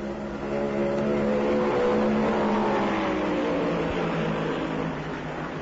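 Stock cars roar around Darlington Raceway during the 1974 Southern 500, a steady, loud engine drone whose pitch rises and falls as the pack races past, with no voices.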